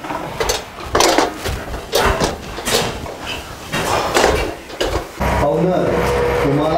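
Pots and dishes clank and scrape repeatedly during washing, loud and near, ending in a steady rush of running water.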